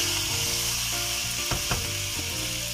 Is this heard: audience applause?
no